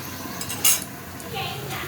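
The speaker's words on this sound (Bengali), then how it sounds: "দিয়ে একটু নেড়ে চেড়ে আর 1 মিনিটের মতো একটু ঢেকে দিই আমি" A pot of Bengali puti fish curry with pumpkin gets a brief stir, then a metal lid clanks on with one bright clink, followed by a soft steady simmer and light scraping close by.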